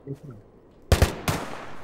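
Gunfire in the Minecraft mod The Crafting Dead: two quick close shots followed by another burst, loud and sharp, after faint talk at the start.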